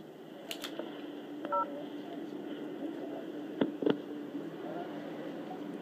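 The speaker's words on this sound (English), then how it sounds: "To access your mailbox, press pound." Telephone keypad tones sound on a voicemail system as the pound key and other buttons are pressed: a few short, separate electronic beeps over a quiet line hiss.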